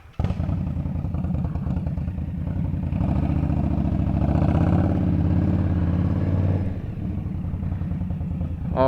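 Motorcycle ridden through downtown New York City, its engine a steady, loud mid-range drone with wind rumble that swells slightly in the middle before easing off, continuous and close throughout.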